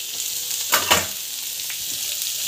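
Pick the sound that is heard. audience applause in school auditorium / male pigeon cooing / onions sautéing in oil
onions sautéing in oil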